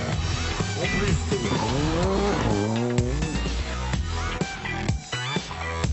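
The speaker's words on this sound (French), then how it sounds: "Des beaux dérapages et vraiment une belle maîtrise" A rally car at a 2018 club rally in France's Cœur de France region slides through a corner. Its engine roars and sweeps up and down in pitch while the tyres scrub, loud and close, with no talk over it.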